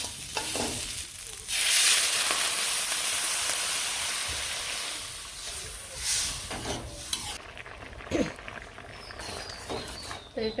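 Vegetables frying in a pan in a village kitchen, a steady hissing sizzle with scraping stir strokes, a brief voice in the background near the end.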